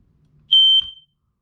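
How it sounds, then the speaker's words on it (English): An RV smoke alarm being tested gives a single loud, piercing high-pitched electronic beep lasting about a quarter second, close and alone, followed by a soft click. "that your smoke alarm is working properly"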